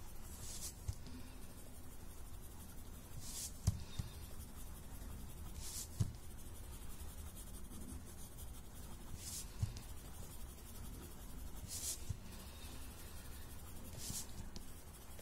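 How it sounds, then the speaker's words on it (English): A dark green watercolor pencil is rubbed on paper in small circular strokes, a soft continuous scratchy scribbling at close range with a few sharper taps, and no talking. "just with circular movements add some dark green watercolor pencil around this"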